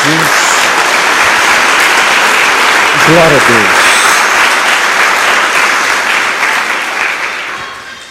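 A church congregation claps loudly and steadily in sustained applause, with a voice briefly calling out over it before the clapping gradually tapers off.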